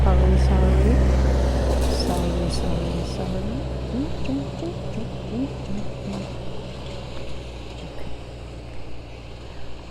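Continuous rumbling background noise like wind and passing traffic, loud at first then easing, with faint scattered sounds over it.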